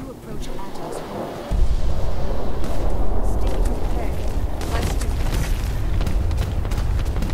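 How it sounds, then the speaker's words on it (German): Gunfire in the Fallout 4 video game out in the Glowing Sea, dense rumbling bursts of shots and booms that swell after a quieter start and keep rolling steadily, with someone talking over them. "Wieso schießen die auf mich?"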